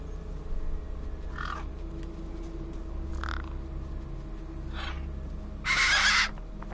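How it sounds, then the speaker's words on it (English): Gang birds in the video game Beyond A Steel Sky on PlayStation 5 give four spaced, croaking caws over a steady low hum, with the last call the loudest and longest. "The gang birds were eyeing up the corpse"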